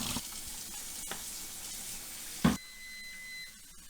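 Running water rinses slide film in a home darkroom, a steady broadband hiss that cuts off sharply after a brief knock midway, leaving a quieter background.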